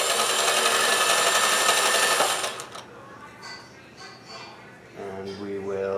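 A vintage Singer 431G or Kenmore 158 sewing machine chain stitches with embroidery thread at its longest stitch length, a loud, close, rapid whirring run that stops after about two seconds, followed by quieter handling noises and a brief voice.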